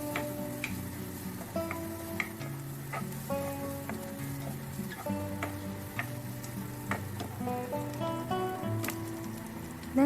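Chopped garlic, curry leaves, pandan and chillies fry in hot oil for a sprats stir fry, a steady sizzle with light ticking pops running under louder background music.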